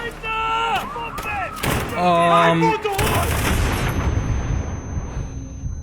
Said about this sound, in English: I fail to believe that they would understand how to use and reload and operate a light machine gun like this